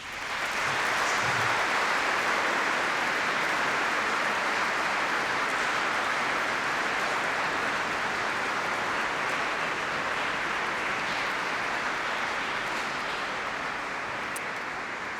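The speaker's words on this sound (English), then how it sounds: "Thank you very much indeed for that very enthusiastic applause" Graduates at a 2010 University of Surrey graduation ceremony give sustained, enthusiastic applause, a dense even wash of clapping from a large hall that holds steady for the whole stretch, with no talk over it.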